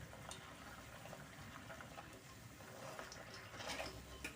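A homemade crunchy single-ingredient snack fries in hot oil while being stirred. The sizzle is faint and steady, with a soft bubbling hiss throughout and a slightly louder burst near the end.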